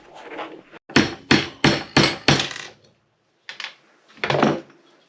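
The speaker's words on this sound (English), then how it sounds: "now just need a hammer now just to tap it through" Hammer tapping a pin through a Picatinny rail on an alloy lid of a steambow: five sharp, evenly spaced metallic knocks in quick succession, then a pause and two more separate taps, close and loud with no talk.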